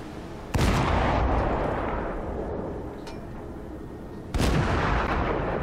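Heavy naval guns boom in a warship's full broadside during a naval battle game, two huge sudden blasts several seconds apart, each followed by a long loud rumbling roar that fades slowly.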